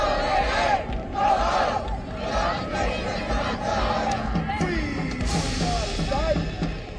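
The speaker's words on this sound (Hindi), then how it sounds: "भीड़ ने फिलिस्तीन के समर्थन में नारेबाजी की।" Thousands of people gathered in Times Square, New York, chant slogans in support of Palestine, a loud rhythmic mass of voices rising and falling in repeated waves, with whistles and shouts over the dense roar.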